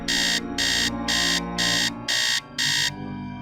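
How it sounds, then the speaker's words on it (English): A shrill electronic alarm from the Nancy Drew game Message in a Haunted Mansion sounds in six evenly spaced piercing beeps, each about a third of a second, loud and alone over a low background hum. "I hate the alarm sound too"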